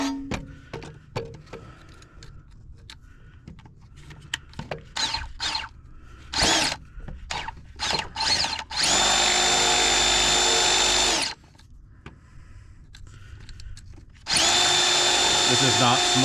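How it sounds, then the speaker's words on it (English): Clattering and handling noises, then a power drill runs loudly in two sustained bursts of a few seconds each, close by. "Get the drill in here."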